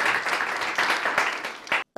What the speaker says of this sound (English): I hope everyone can say congratulations and give them a nice round of applause